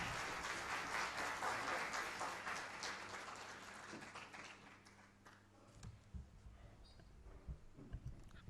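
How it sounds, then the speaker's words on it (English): Audience at a media conference event applauding a keynote speaker, a dense burst of clapping that fades after a few seconds into sparse claps and scattered voices. "Let's have a huge round of applause for sir."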